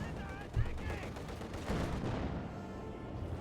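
Gunfire in the Company of Heroes 2 strategy game crackles in scattered shots and short bursts amid in-game battle noise, moderately faint, with a thump near the start.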